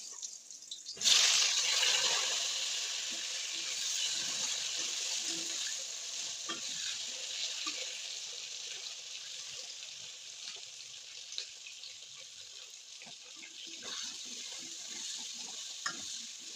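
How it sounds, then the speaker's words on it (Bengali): Potatoes frying in hot oil with five-spice seeds for a fish curry, a steady bright sizzle that jumps in loud after a second and holds for the rest, with soft stirring scrapes and small spatters throughout. "এখন আলুটা একটু লাল লাল করে ভাজা করে নিই।"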